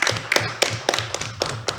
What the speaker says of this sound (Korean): 토론에도 박수를 치기로 하죠.